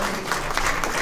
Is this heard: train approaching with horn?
no